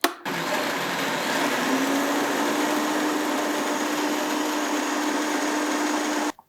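A food processor whirs steadily as it blends a dairy-free keto pistachio cream with vanilla extract, a loud continuous motor drone that starts abruptly and stops after about six seconds, with no talking.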